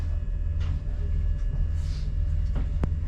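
Train doors open on a stopped train at Maidenhead station over a steady low engine hum, with a couple of short mechanical clunks and a hiss, then a sharp click near the end.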